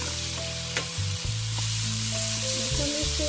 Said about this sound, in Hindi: 5 से 10 मिनट तक इसको हल्का हल्का सब फ्राई करते रहेंगे ताकि अच्छी तरह से फ्राई हो।